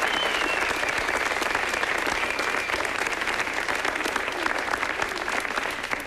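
A comedy show audience applauds in a dense, sustained wash of clapping, loud and steady throughout with no break.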